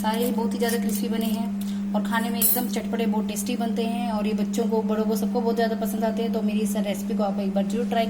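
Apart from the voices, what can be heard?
No everyday noises stand out.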